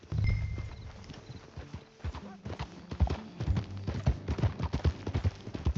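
Horse hooves clip-clop in a steady rhythm, joined by a brief whinny, with game music and ambient effects underneath, in the video game Red Dead Redemption 2.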